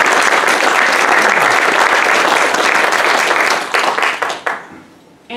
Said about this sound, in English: I just want everyone to give a round of applause for Kathy.